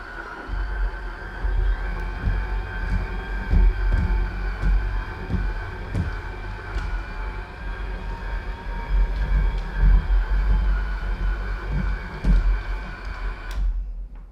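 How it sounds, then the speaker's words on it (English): HIZERO F100 cordless electric mop running on its wetter setting over a hard floor, a steady mechanical hum with soft rhythmic ticking and low thumps, close and continuous until it stops. "you just heard the real sound of the machine running"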